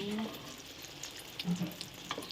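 An egg omelette with cha-om leaves frying in hot oil, giving a steady, soft sizzle with a few brief clinks of stirring, close up and without talk.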